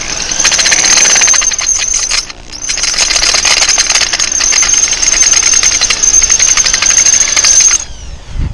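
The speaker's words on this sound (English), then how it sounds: "I'm going to drill a hole right in the center of it" A drill bores into the rusted swing arm pivot of a 1989 Kawasaki KX250 dirt bike, a loud, steady, high-pitched metallic grinding whine running close and continuous, with a brief dip partway through before stopping.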